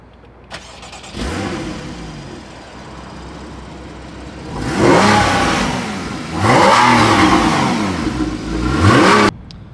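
A Porsche Boxster's mid-mounted engine cranks and catches, settles into a rough idle, then gets revved hard three times, each surge climbing and falling back.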